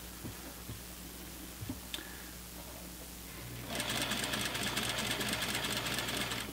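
Domestic sewing machine stitching in the ditch of a pants seam: quiet handling noises and faint clicks, then the motor starts and runs a fast, steady rattling stitch for the last few seconds, close and clear.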